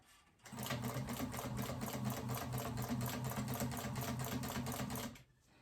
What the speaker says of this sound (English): I'll go ahead and sew across the bottom